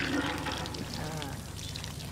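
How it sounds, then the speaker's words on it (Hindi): Water gushes steadily from a hand pump, a continuous splashing flow heard close up and fairly loud throughout. "अच्छा पानी आ रहा है।"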